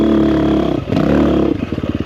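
A 2024 KTM 350XCF Factory Edition dirt bike roars loudly and close, its engine holding a steady high drone, dipping briefly, then breaking into rapid choppy revving pulses.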